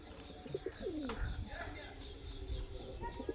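Pigeons coo in low, throaty warbles among other bird sounds, with people talking nearby over steady background noise.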